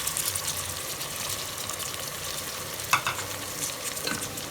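Chopped tomatoes are stirred into spices frying in a pan, giving a steady close sizzle with scraping spoon strokes and a sharper clack near the middle.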